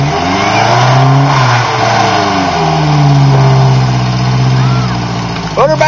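A Toyota truck engine revs hard in a mud bog, a loud, close roar that rises and falls continuously, with people shouting over it.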